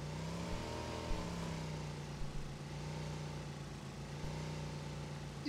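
Vehicle engine in the video game PUBG, likely a motorcycle, running steadily with a continuous droning hum and occasional revving swells, moderately distant and without voices.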